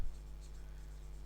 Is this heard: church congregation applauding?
no